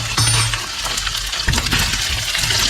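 Chicken wings frying in a pan get stirred with gyros seasoning, loud close scraping and clinking of a utensil against the pan over a steady sizzle, with no talking.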